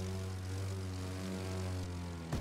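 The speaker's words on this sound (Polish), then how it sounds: "Latanie samolotem jest bardzo umowne w tej grze." A propeller airplane flies in the arcade racing game The Crew 2, its engine a loud, steady droning hum with a strong buzzing tone that holds evenly before cutting off abruptly at the end.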